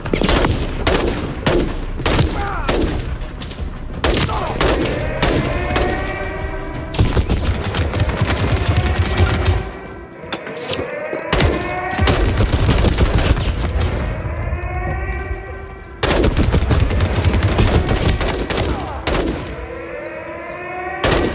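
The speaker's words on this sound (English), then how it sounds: "John got a mounted MG coming your way on an armored vehicle." A mounted machine gun fires from an armored vehicle in Call of Duty: Modern Warfare III, delivering long, loud, relentless bursts of rapid fire with brief pauses, mixed with whizzing ricochets and a wailing tone, close and dominant.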